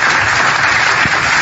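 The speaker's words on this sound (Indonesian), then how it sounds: "Tepuk tangan dulu." Audience applause from a crowd, a steady dense wash of clapping that fills the whole short moment at even loudness.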